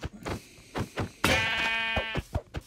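A sheep bleats in a survival-crafting video game, one clear wavering bleat set among short clicks and thumps of gameplay actions, close and loud.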